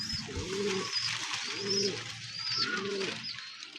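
Royal Teddy pigeons, a breeding pair, coo in three clear repeated phrases roughly a second apart, close by over a steady background hiss.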